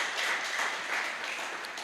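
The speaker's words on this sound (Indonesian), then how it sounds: "Kasih tepuk tangan bagi Tuhan." A church congregation applauding during a worship service, a faint, dense patter of clapping that stays even throughout with no voices over it.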